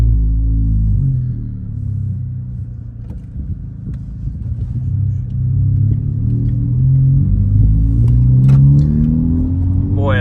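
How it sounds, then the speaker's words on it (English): A Honda Civic Type R with about 8,069 miles drives along, its engine a steady low rumble with a rising rev and acceleration near the end, heard from inside the car. "take the Type R for its last ride"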